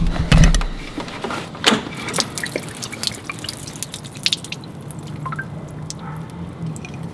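Water drips from a worn BMW E46 drift car, with close, irregular drops and splats, a louder cluster at the start, then scattered softer drips over a faint background.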